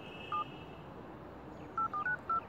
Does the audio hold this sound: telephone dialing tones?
yes